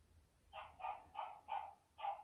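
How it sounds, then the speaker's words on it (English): A dog barks five times in an even rhythm, each bark short and clear over a faint low hum, somewhat distant and moderately quiet. "that dog is adorable"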